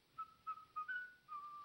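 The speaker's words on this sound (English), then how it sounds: "why are you whistling?" A man whistles a short, steady tune of several held notes and brief breaks, soft and fairly near, alone against faint background hiss.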